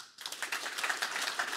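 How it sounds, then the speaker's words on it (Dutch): Brief burst of audience clapping for a guest author in a studio talk show, a quick patter of hands starting abruptly and continuing briskly at moderate volume. "Geef hem een groot applaus."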